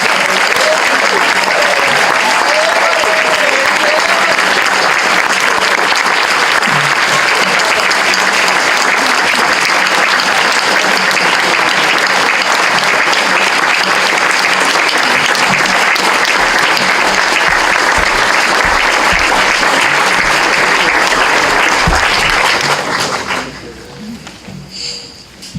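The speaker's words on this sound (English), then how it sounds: "Let's give the class of 2018 a round of applause." A large audience at a Carson Long Military Academy graduation applauds the class of 2018 with loud, dense, sustained clapping that runs for over twenty seconds before cutting off abruptly.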